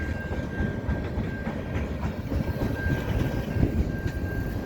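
A train passes at a distance with a steady, rumbling clatter and a faint high whine, continuous across the whole stretch with no talk over it.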